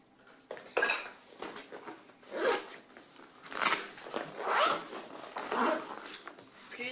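A mini cooler gets packed with a yogurt, a sandwich, a fork and a spoon, heard as irregular close bursts of rustling, zipping and light metallic clinks separated by short quiet gaps.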